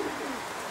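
Pigeons coo softly at a pigeon loft, a brief low murmuring call with nothing else audible.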